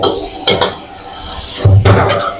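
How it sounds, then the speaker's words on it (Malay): Metal utensils scrape and clank against a pan while ground chili paste sizzles faintly, with a couple of louder stirring knocks. "Kita goreng lagi, kita tumis lagi dia."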